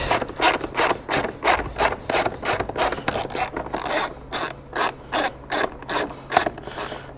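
A ratchet wrench clicks in quick, even bursts while loosening the airbox lid bolts on a GM Duramax engine, close and loud, with short pauses between strokes and no talking.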